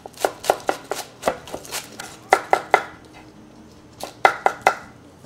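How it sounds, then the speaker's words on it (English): A knife chops green onion on a cutting board in quick, sharp, close knocks, a couple dozen in all, grouped in short uneven runs with brief pauses between them. "Green onion, let's chop it."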